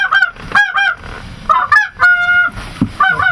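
A flock of geese honks in repeated loud, close calls, overlapping bursts of nasal honking with short gaps between them, heard during a hunting outing.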